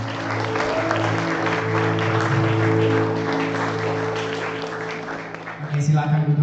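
Youth congregation at a Christmas church service clapping together, dense applause heard over a steady sustained music tone, ending with a short louder burst.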